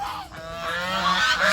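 Geese honk on a farm in a continuous, fairly close chorus of overlapping nasal calls that build in loudness toward the end, with no talk.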